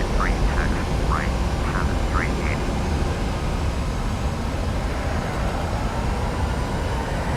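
A Boeing 737-800 airliner in a flight simulator game: steady loud jet engine roar throughout takeoff, with faint short tones near the start.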